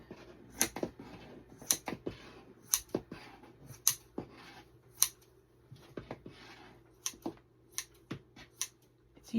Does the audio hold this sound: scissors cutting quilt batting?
yes